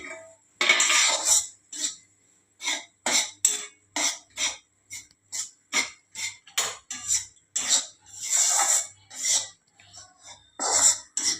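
Spoon scraping roasted gram flour out of a kadai into a dish, a run of rough rasping strokes in an uneven rhythm, close and fairly loud, with short pauses between scrapes.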